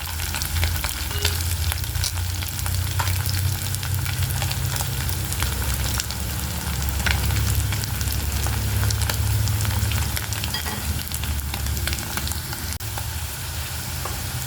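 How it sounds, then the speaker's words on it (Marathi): Potato pieces for dum aloo fry in hot oil, a loud continuous sizzle and bubbling that holds steady throughout with occasional crackles, close up and with no talk. "छानसे ब्राऊन कलरचे तळले गेलेले आहेत दोघं साईडने"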